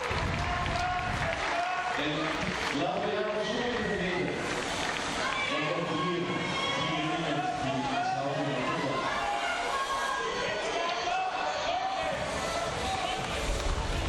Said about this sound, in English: Huge cheer for Verhoeven.